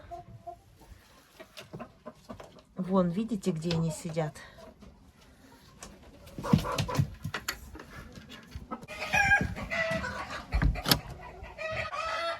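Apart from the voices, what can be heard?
Marans chickens and rooster clucking in coop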